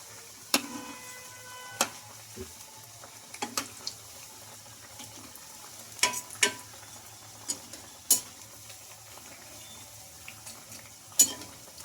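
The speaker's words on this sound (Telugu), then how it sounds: "ఒక నిమిషం పాటు ఆయిల్లో బాగా ఫ్రై అయిన తర్వాత ఇంకొక వైపుకి అయితే టర్న్ చేసుకోవాలి" Oats vadas fry in oil in a kadai with a steady low background of bubbling, broken by sharp clinks and scrapes of a utensil turning them at scattered moments, close and moderately quiet with no talking.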